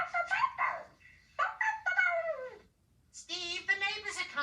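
A voice actor playing Blue the puppy from Blue's Clues makes high, yelping puppy barks and whimpers in short bursts. A pause follows, then a longer run of squeaky imitation barks, all close and fairly quiet.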